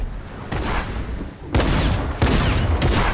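Gunshots in the video game Fortnite during an arena match, several loud bursts of fire in quick succession with sharp onsets, close and dense, and no talk over them.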